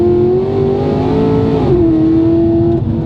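A supercharged Chevy SS making about 687 wheel horsepower holds a loud, steady engine drone close to the microphone for about three seconds. The note sits high and level, dips briefly midway, then settles slightly lower.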